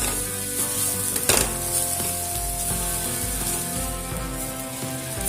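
A cauliflower filling for parathas, mixed with chopped coriander leaves, sizzles steadily in a pan over a low flame. A sharp scrape of a spoon and soft clinks come through as it is stirred.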